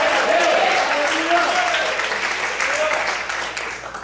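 A church congregation applauding and praising the Lord during a service, a dense, loud wash of clapping that gradually fades, with voices and a tonal line, likely singing or shouting, running underneath.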